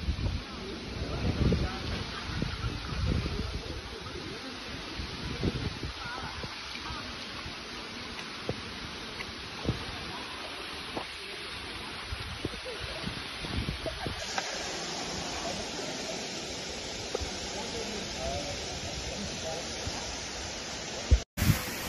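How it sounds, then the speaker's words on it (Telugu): Kudlu Falls, a waterfall about 40 km from Udupi, gives a steady broadband rush of falling water that holds evenly throughout, with faint wind buffeting and a brief sharp knock near the end. "ఇది ఉడిపి నుంచి 40 కిలోమీటర్ దూరంలో కుడ్లు ఫాల్స్ అన్నమాట"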